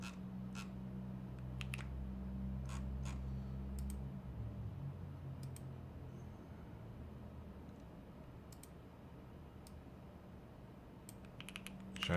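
Scattered clicks of someone typing junk text on a computer keyboard during a web development session, quiet taps in irregular bursts over a steady low hum.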